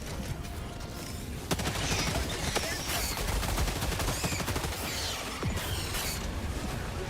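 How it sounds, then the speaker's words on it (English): Chaotic video game combat in Helldivers with incendiary grenades going off amid rapid gunfire, sharp bursts and mechanical clatter layered densely throughout, loud and continuous under occasional voices. "Trying out the incendiary grenades."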